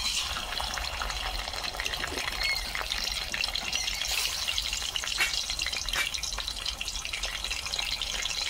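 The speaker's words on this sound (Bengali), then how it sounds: "তেল গরম হয়ে গেছে, মাছ দিয়ে দেবো" Magur fish fry in hot white oil in a kadai, a constant bright hissing sizzle with scattered crackles and spits, close up and uninterrupted by any voice.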